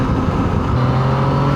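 A motorcycle with a CP3 three-cylinder engine accelerates close by, a steady loud engine roar with a rising tone partway through, no talk.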